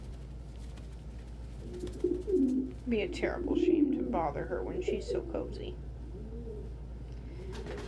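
Pigeons give soft, low cooing calls in a calm indoor setting, a few murmured bursts in the middle of the stretch under and between a person's quiet speech.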